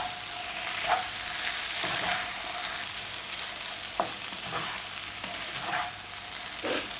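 Prawn butter roast frying in a pan with added butter, a steady sizzle broken by a few distinct spatula stirring scrapes at uneven intervals.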